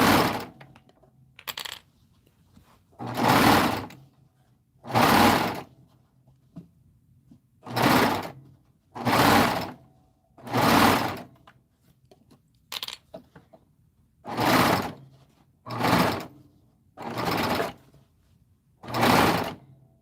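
A sewing machine set to a stitch length of just over 3 runs in a long series of short, loud, close bursts about a second each, separated by near silence.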